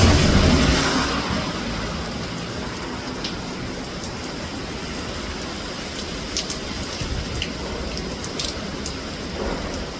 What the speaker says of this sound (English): Let's see how long this rain is gonna last.